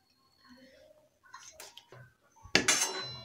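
Spoon scraping and clinking against a pot while rajma curry with salt and crushed kasuri methi is stirred, a few soft scrapes then a louder clattering burst near the end.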